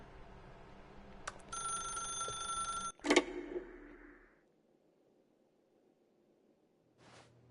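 A telephone rings in a video game: a steady electronic ring for about a second and a half, then a clattering pickup cuts it off. A brief quiet tone follows.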